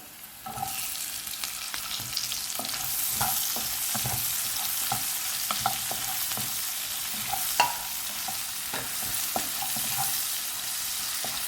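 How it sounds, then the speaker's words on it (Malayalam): Chopped onions hit a pan already holding green chillies and pepper for fish molee, giving a steady hissing sizzle with scattered spoon scrapes and clinks as they are stirred, no voices present. "ഇതിലേക്ക് നമ്മൾ അരിഞ്ഞു വെച്ച ഈ സവാള കൂടി ഇട്ട് കൊടുക്കാം"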